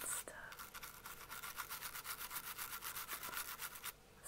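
A toothbrush scrubbing teeth in an ASMR dentist roleplay, with quiet, close, rhythmic back-and-forth bristle strokes repeating steadily.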